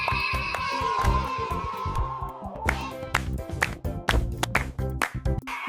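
Hand claps in a children's alphabet song about animals, sharp rhythmic claps landing on the beat over bright, bouncy music with sung melody tones.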